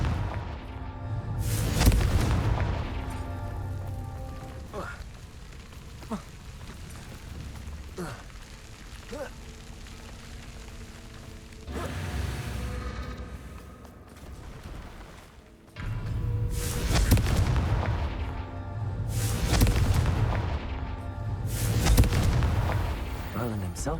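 Loud booming blasts of the Confringo fire spell in Hogwarts Legacy, several heavy explosions in clusters with crackling debris between them, with game music and sound effects.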